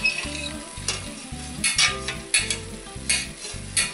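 Mushrooms, a garlic clove and thyme sizzle steadily in a frying pan while being braised with steak, with repeated stirring scrapes and clinks of a utensil against the pan over the continuous frying hiss; no talk.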